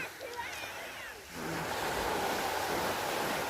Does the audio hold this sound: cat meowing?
no